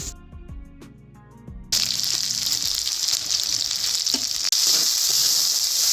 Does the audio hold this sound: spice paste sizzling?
yes